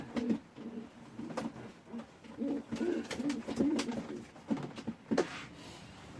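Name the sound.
pigeon cooing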